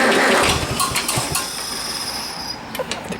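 A Farmall A tractor engine is cranked and started, a loud close mechanical churn that settles into an uneven running rumble over a few seconds, with no talking.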